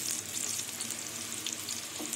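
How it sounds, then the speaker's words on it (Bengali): Carrot paratha fries in hot oil in a pan, a steady, close sizzling hiss with faint crackles throughout and no speech. "তেল গরম হয়ে গেছে, এবার আমি পরোটাগুলো দিয়ে দেবো।"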